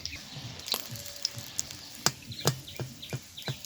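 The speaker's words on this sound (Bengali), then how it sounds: "চালটা যেভাবে ভেজে নিয়েছি এই বাদামটাও ওইভাবে ভেজে নেব বাদামটা একটু ভাজতে সময় লাগবে" Peanuts frying in hot oil give off faint, scattered crackles and small pops over a low hiss, irregular and quiet throughout, with no voices.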